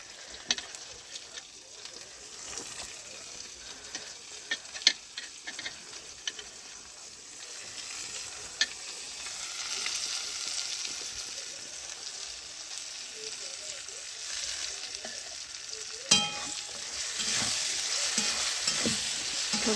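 Red country tomatoes sizzle in a pan for khichdi while being stirred, with scattered spoon clicks over a steady frying hiss that grows fuller toward the end.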